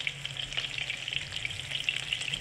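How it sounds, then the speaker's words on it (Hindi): Kebabs frying on low heat in a pan, giving a steady, close sizzle and crackle that runs throughout without any talk. "देखें ये फ्राई हो रहे हैं धीमी आंच पे।"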